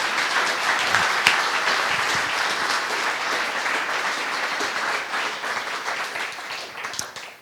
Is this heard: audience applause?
yes